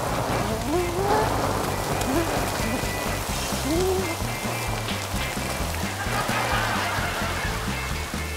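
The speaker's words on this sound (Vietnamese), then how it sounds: "mưa dữ lắm hả" Heavy rain pours down in a steady, dense, loud hiss that does not let up, with faint voices in the background.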